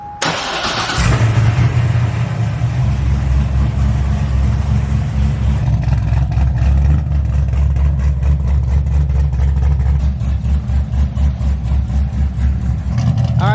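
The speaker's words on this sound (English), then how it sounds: "Let's go and start it up and we'll see what the fitment looks like." A lowered C6 Corvette's V8 cranks and fires about a second in, then settles into a loud, steady, rumbling idle close to the microphone with no talk over it.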